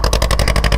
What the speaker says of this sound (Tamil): இன்ஜினுக்கு பக்கத்தில் நிற்கிறேன்